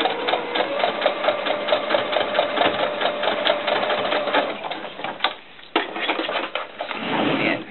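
A sewing machine stitches a doll skirt, running in a fast, steady rattling rhythm up close, briefly pausing near the end before whirring on again.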